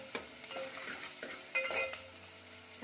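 Onion frying in a pan for Kolhapuri chicken rassa, heard as a soft, quiet sizzle with a few light spatula scrapes and small metallic clinks against the pan, and no voices.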